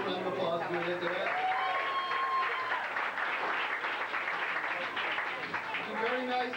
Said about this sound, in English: Give yourself a little round of applause for doing that.